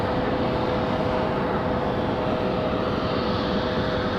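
An Airbus Neo LR jet on final approach at Raleigh-Durham airport gives a loud, continuous engine roar with a faint steady whine running through it.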